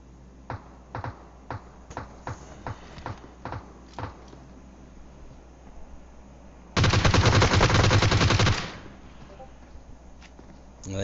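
Gunfire in a multiplayer video game: a string of evenly spaced single shots, then a dense two-second burst of rapid automatic fire, with faint voices behind.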